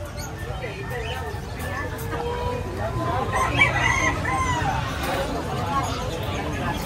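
An exotic breeding rooster at a pet market in Bocaue crows loudly and close by, with clucks and the babble of a crowd of people talking around it.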